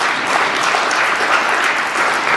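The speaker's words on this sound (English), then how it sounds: "I think they deserve a better clap." Applause from an audience at a panel discussion on the future of the internet, steady dense clapping filling the whole stretch at close range without any speech.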